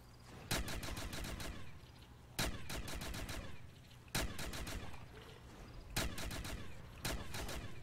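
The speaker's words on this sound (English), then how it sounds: "If we just burst fire it slowly." Gunfire from a zombies video game on a remastered MW3 custom map comes in five evenly spaced bursts of rapid, loud shots, each a few rounds long, with a constant hum of game sound in between.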